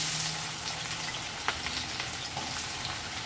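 Thinly sliced onions frying in oil in a pan, a dense, continuous crackling sizzle heard close up, with one brief knock partway through and no voices.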